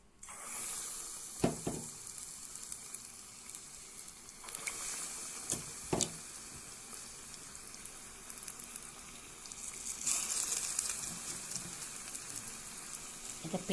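Punugulu bonda batter deep-fries in hot oil with a continuous soft bubbling sizzle, swelling louder now and then, punctuated by a few sharp clinks of a utensil.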